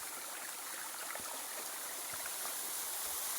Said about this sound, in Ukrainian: Я був правий, ми прийшли наверх водоспаду.